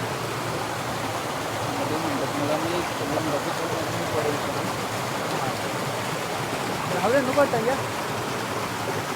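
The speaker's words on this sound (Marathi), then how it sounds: "हा पाणी जो येतोय ना तो डायरेक्ट तिथून खाली पडेल" Water from a village stream pours past a dam of sticks and wooden stakes, a constant near rushing and splashing with a brief louder gurgle near the end.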